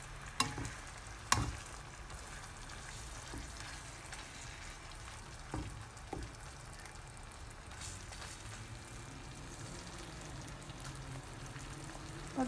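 Bacon and mushrooms frying in a pan, a steady soft sizzle broken by a few scraping knocks as a utensil stirs them, quiet and close with no voices.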